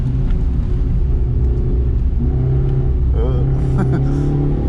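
Suzuki Ignis Sport accelerating on a race track during a track day, a steady mid-pitched engine drone rising in revs inside the cabin, with someone talking over it.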